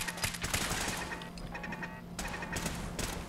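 Automated turrets open fire in an ambush in Fallout 4, loud rapid bursts of automatic gunfire crackling close by in dense, repeated volleys, with no talk over them.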